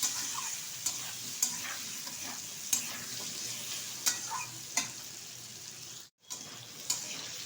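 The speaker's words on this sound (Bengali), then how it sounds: "একটু ভাজা ভাজা টাইপের করে নেবো আলু আর বেগুনটা" Cut potato and eggplant frying in hot oil for a prawn and pui greens dish, a steady sizzle broken by sharp scrapes and clacks of stirring about once a second, with a brief drop to near silence toward the end.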